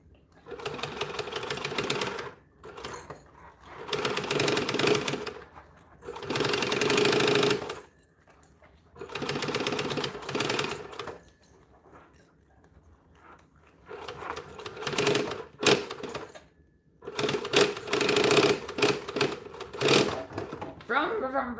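A sewing machine stitches a bag in repeated bursts of motor whirring, run in short revs with pauses between them, close and fairly loud, with a person talking in between.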